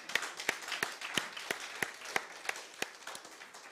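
Church congregation clapping in unison to acclaim the Lord: about eleven steady, rhythmic claps at a moderate pace, fairly faint, with no talking over them.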